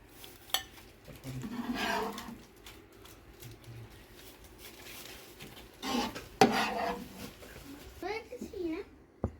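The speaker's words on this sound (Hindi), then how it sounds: "अब हम इसको डिश आउट कर लेंगे" Mutton kebab karahi being dished out of a pan: metal utensils scrape and clink against the cookware in scattered bursts, with a sharper clatter near the end, while a voice and other talk sound faintly in the room.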